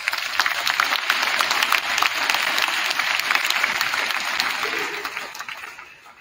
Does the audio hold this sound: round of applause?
yes